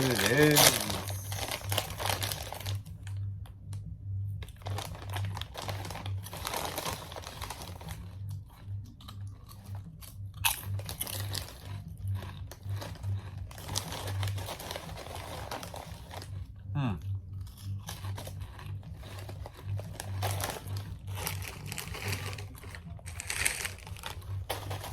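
A bag of limited edition Lay's Cheetos cheese flavored chips crinkles and rustles close up while chips crunch in bursts, with intermittent talk mixed in.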